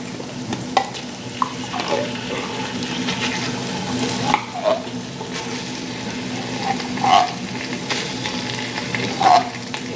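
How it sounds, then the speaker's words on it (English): Tomato paste sautés with garlic in a pan, a steady close sizzle with soft scraping stirs and a few small pops and clicks throughout, without talking. "we're just going to saute this tomato paste in here"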